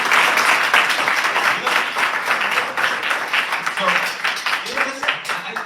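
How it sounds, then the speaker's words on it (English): A small audience at a teen church event gives sparse, scattered claps, a handful of hands patting irregularly under continuous talk and room noise. "Thanks, I got 2 claps."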